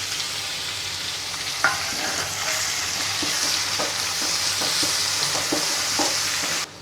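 Diced potatoes and finely chopped tomatoes fry for sabudana khichdi, with a steady sizzle in the pan and repeated scraping stirs of a spoon near the mic.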